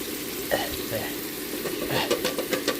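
Raw shrimp rattling and tumbling in a metal air fryer basket as it is shaken, with a few bright scraping clatters and a soft sizzle underneath, close and moderately loud.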